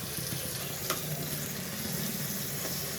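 Tomato and chilli hitting hot oil in a home kitchen pan, giving a steady close sizzle and crackle that holds evenly throughout, with a faint clink of stirring and no voices.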